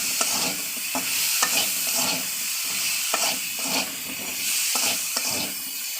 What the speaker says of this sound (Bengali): সম্পূর্ণ আদর্শন ছাড়া খুব কম তেলে রান্না করা হচ্ছে হেলদি কিছু একটা খাবার